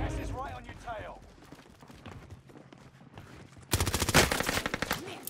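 Gunfire in Call of Duty on Rebirth Island, a rapid burst of loud shots arriving late after quieter game sounds, with a voice talking earlier.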